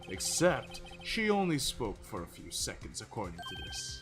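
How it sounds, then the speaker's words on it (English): A telephone ringtone rings in the Ace Attorney video game, with short bright chirping bursts near the start and end, largely buried under steady conversation. "I heard a phone ring just now."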